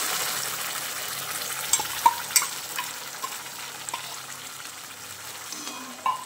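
Ground masala paste with half a teaspoon of cumin roasting in a pan for paneer masala, giving a soft, steady sizzle broken by a few sharp clinks and scrapes of stirring.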